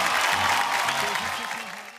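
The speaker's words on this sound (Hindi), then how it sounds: "एक बार जोरदार तालियां" A studio audience on the Bigg Boss reality show claps loudly and steadily for about two seconds, with voices mixed in. The applause fades slightly toward the end.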